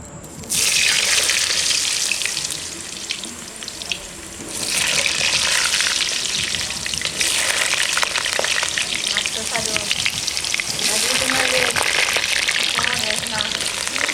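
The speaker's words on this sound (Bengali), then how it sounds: "প্রথমে আলুটা ভেজে নেব তার জন্য তেল দিয়ে দিচ্ছি আলুগুলো দিয়ে দিচ্ছি" Potato pieces frying in oil for a chicken curry, a loud, dense, continuous sizzle that briefly dips and then surges again, with faint bits of voice beneath.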